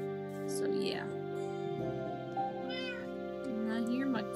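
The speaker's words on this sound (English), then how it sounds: "And I hear my kitty kitty calling at me." A pet cat meows several times with rising, wavering calls while a person talks over it, during a relaxed Minecraft game stream with a steady tonal hum in the background.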